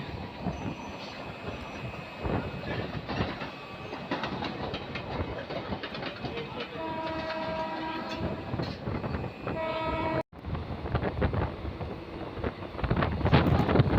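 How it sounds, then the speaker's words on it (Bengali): A down Bardhaman–Howrah local commuter train passes close by, a steady loud rumble of carriages with rhythmic clickety-clack and a long sounding horn, plus wind buffeting the microphone. "আর ওইদিকে বন্ধুরা আসছে ডাউন বর্ধমান হাওড়া লোকাল"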